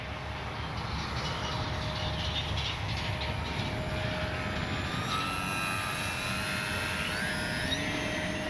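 An E-flite Sportix 1.1m RC airplane's electric motor drones as it flies in for landing, a steady distant whine with shifting pitch over the whole stretch, faint and continuous.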